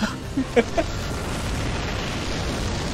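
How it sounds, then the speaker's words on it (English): Explosions in the action game KurtzPel: a few short, sharp bursts and pops in the first second, followed by a steady low rumble of game ambience. "they really like their explosions"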